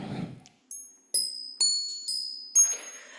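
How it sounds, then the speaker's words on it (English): Small cast metal bells, made in a student foundry project, struck one after another: five or six clear, ringing strikes with bright overtones that sustain and overlap, following a brief soft rustle at the start. "These are casted bells."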